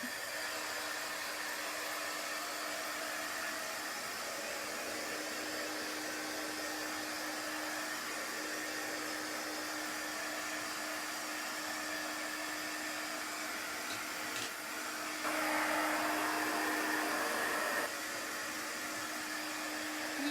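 A hair dryer blows steadily on chalk paste spread over burlap, a constant close whooshing hum that swells slightly louder near the end, with no voices.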